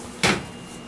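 Oil burner drawer assembly slid by hand during a service check on a burner that will not run, a single short scraping slide close by with no talk.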